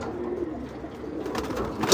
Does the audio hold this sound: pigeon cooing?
yes